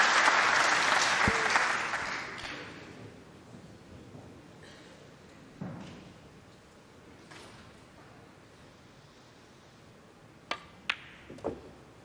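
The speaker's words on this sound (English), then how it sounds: "They can applaud now, they can shout now." Applause from a small audience at a pool match during the last-16 stage of the European Open, loudest at the start and fading over a few seconds, followed by quiet with scattered clacks and knocks.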